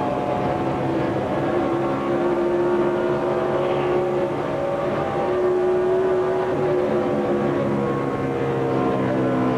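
A sustained, high-pitched NASCAR engine drone at full throttle during the 2005 Coca-Cola 600 holds steady throughout, loud and continuous with no voices.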